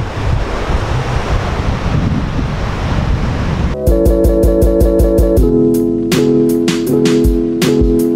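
Surf washes onto the Moroccan coast at high tide, a dense rushing wash with heavy wind buffeting the microphone; about halfway through it gives way abruptly to a loud, pulsing, rhythmic tonal sound.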